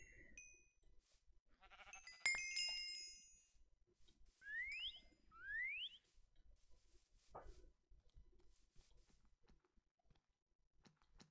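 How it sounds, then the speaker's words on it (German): Sheep bleating in the video game Minecraft, heard as brief rising animal calls in the middle, mixed with bright chiming game effects and small clicks, fairly faint and with no talking. "Du bist ein Schaf."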